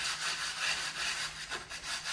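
Steady, rhythmic abrasive rubbing on wood, back-and-forth strokes repeating continuously and close by, with no voices.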